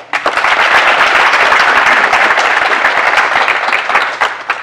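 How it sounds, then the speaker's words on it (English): An audience at the grand opening of a health and wellness center applauds loudly and densely, with sharp claps continuing throughout and no speech over them. "Another round of applause, please."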